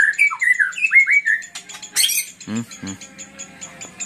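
A white-rumped shama sings close by in loud, varied whistled phrases with sharp chirps and a few squawky notes, continuing without pause.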